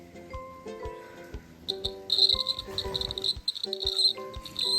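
A hand steadiness tester's buzzer, weak from a low battery, sounds as a thin, high-pitched buzz in stuttering bursts over quieter tonal background sounds.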